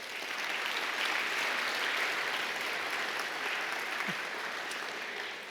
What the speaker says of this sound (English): Give everyone who we recognized a round of applause.